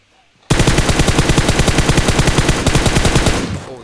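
Automatic gunfire in the mobile game PUBG Mobile, a loud sustained burst of rapid shots that starts abruptly after a quiet moment and rattles on for several seconds before tailing off, with no speech over it.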